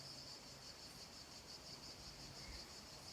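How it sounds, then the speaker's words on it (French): Cicadas drone in a steady, dense chorus, loud and continuous, with no voices over the insect buzz. "je vais vous abandonner là, avec le bruit des cigales"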